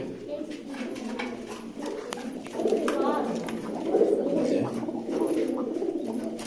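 Several pigeon pairs, newly bought along with their eggs, coo in low, throaty, repeated calls close by, with a little background noise.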